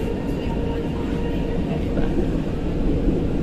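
Riding inside an MRT metro train in Manila heading toward Cubao, a steady low rumble and hum of the carriage fills the clip, with a brief spoken word near the start.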